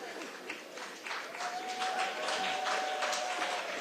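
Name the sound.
audience applause at a congressional debate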